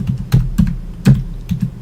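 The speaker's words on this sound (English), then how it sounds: "I'm typing it in." Keys tapped on a computer keyboard while a phone number is entered, five or six distinct clicks spaced irregularly, close and fairly loud, with no voices.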